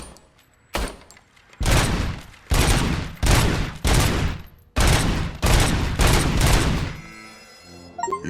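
Bursts of gunfire from a service weapon on a shooting range in a video game, several loud, closely spaced volleys with short gaps between them, ending in quieter electronic chimes.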